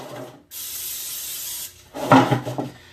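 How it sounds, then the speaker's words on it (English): Spray bottle misting challah dough: a long steady hiss of about a second, then a shorter, louder burst of spraying a moment later, close and clear with no talk. "I'm going to pop up a spray here."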